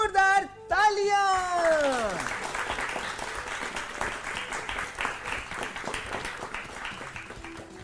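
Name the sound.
audience applause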